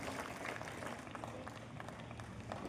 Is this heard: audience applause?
yes